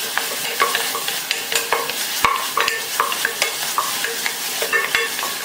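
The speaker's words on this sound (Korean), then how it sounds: "샐러리도 충분히 볶아주세요." Celery stir-fried with onion and garlic in a pan, heard as a steady soft sizzle broken by repeated scraping and clacking strokes of a utensil stirring the vegetables, close and without speech.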